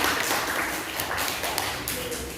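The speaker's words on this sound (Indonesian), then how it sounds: "Tepuk tangan buat kelompok" Classroom of students clapping for a group that just presented, a dense patter of many hands at close range, steady and fairly loud throughout.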